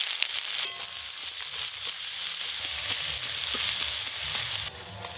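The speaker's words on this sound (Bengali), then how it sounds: "প্রথমে পেঁয়াজ কুচি একটু লাল লাল করে ভাজবো" Chopped onions sizzle and crackle steadily in hot oil in a pan with whole garam masala, a dense, continuous frying hiss that drops slightly near the end, with no talking.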